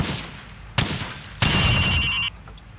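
Rifle shots ring out on a target range in Call of Duty 4, two loud sharp cracks about half a second apart followed by a tonal beep-like ring that cuts off, with little else around.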